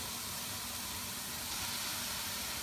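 Tomatoes tipped into a hot pan with garlic hiss and sizzle in a steady, broadband wash that holds throughout, growing slightly louder toward the end, with no talking.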